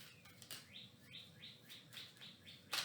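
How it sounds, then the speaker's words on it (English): Faint, repeated robin chirps in a quick series of short rising notes, somewhat distant, with a soft background hiss. "There go the birds."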